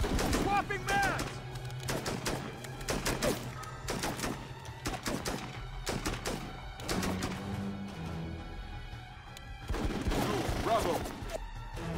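Gunfire in the video game Full Spectrum Warrior: repeated sharp shots and short bursts crackle through the whole stretch, fairly loud and dense, with a soldier's voice shouting in the clip.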